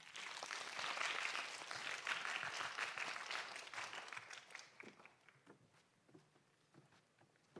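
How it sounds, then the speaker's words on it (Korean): Applause from an audience at a student energy and environment research competition, welcoming a presenting team: dense clapping fills the first half, then thins out and fades to scattered claps. "박수로 맞이해 주시기 바랍니다."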